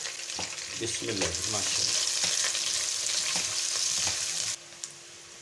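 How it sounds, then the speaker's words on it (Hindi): Onion sautéing in a pan for palak dal gives off a loud, continuous sizzle mixed with scraping stirs. A brief spoken phrase comes partway through, and the frying drops off abruptly near the end. "प्याज एक दरमियाने साइज़ का कट किया हुआ था, वो डाल देते हैं, और इसको हमने सौते कर लेना है"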